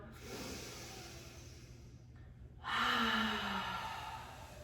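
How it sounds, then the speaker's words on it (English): A single open-mouthed exhale during a yoga breathing exercise, a soft breathy rush that swells partway through and fades slowly, close and alone with no talking. "Open mouth, exhale. Let it go."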